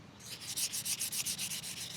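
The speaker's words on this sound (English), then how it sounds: "we are just going to start sanding" Rhythmic back-and-forth wet sanding of a car headlight with a sanding disc, a hissing scrape repeating quickly and evenly, close up with no voices.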